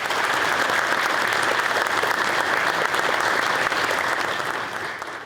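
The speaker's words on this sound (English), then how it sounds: "how about a round of applause for the families of law enforcement" A crowd applauds the families of law enforcement at a police service awards ceremony, loud sustained clapping that holds steady for several seconds before tapering slightly at the end.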